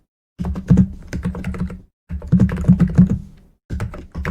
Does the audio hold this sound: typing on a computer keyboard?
yes